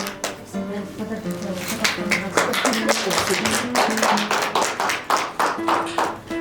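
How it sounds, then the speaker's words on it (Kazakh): At a company awards ceremony, people clap in a fairly rhythmic, steady beat under a musical or vocal backdrop, the claps close and distinct. "Шапалақ."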